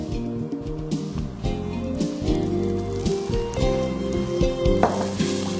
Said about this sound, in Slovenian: pričekamo da se maslac rastopi